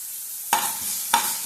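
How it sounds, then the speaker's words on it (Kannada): Ginger garlic paste and onions frying in a pan for paneer burji, a bright continuous sizzle with two sharp stirring scrapes, close and clear with no voices. "ಇವಾಗ ಚೆನ್ನಾಗಿ ಫ್ರೈ ಮಾಡ್ಕೊಳ್ಳೋಣ"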